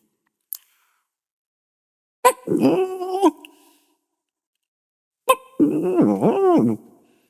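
A human voice imitates tiny newborn puppies whimpering with two short, high, wavering whines separated by silence, preceded by a brief click.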